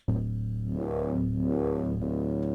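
A thick NI Massive synth bass with added noise, feedback, bitcrusher distortion and reverb holds a low note with a wide, reverberant sweep swelling and receding, with no voices.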